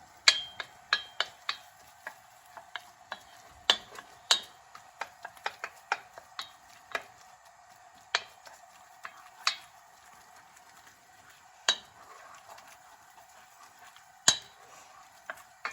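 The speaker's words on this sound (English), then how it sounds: "I'm just going to give that a little stir." A spoon stirs New England clam chowder, a cream-thickened soup, in a pot, making soft scattered clinks and scrapes against the metal at an irregular rhythm, quiet and close with no talk.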